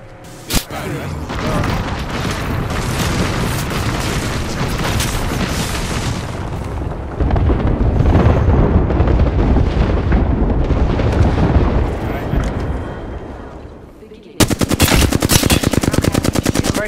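Dense gunfire and explosions in the video game Apex Legends: sustained loud rapid automatic fire with heavy booms, easing off before a renewed burst of rapid shots near the end, with players talking over the fight.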